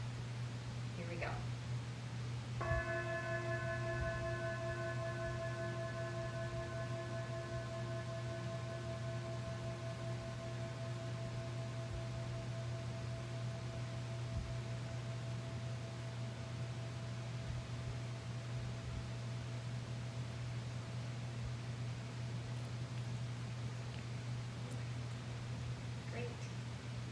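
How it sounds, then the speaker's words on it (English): A mindfulness bell is struck once and rings out with a clear, sustained tone that fades slowly over many seconds against a steady background hum in a quiet room. "the bell helps us practice mindfulness of sound"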